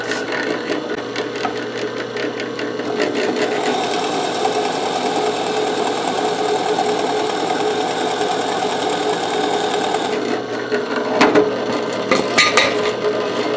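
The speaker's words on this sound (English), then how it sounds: "I found a bit that fits the size of our bolt, so let's drive that down a bit." A drill bit bores into an aluminum wear block on a Jerr-Dan truck bed, a loud steady whirring grind that holds for about ten seconds before the pitch shifts and a few knocks and scrapes follow.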